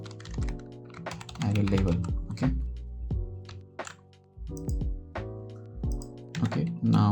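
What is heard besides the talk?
typing code on a computer keyboard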